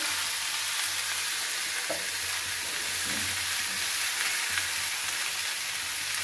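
Masala curry of chowde kaya sizzles and fries steadily in a pan while being stirred, a continuous close hiss with occasional scraping, no voices.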